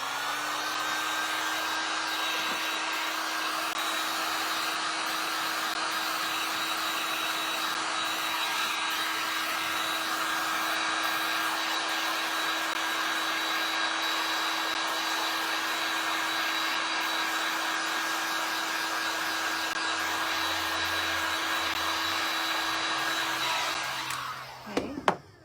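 A heat tool blows with a steady, loud whine and rush of air while it warms rub-on transfer words on a craft piece. It runs unbroken for about twenty-four seconds, then cuts off with a few soft knocks at the end.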